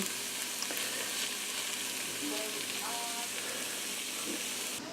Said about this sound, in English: slide all that tofu scramble goodness up in there so that most of it's touching the pan